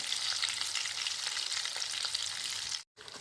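Amudi sea fish frying in hot oil, a dense close crackling sizzle that runs steadily and cuts off abruptly near the end, with no voices.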